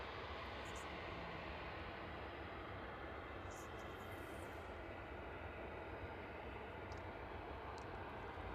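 A cargo aircraft lands at East Midlands Airport with speed brakes deployed, a broad, steady jet roar filling the scene throughout, loud and sustained, with a voice talking faintly beneath it.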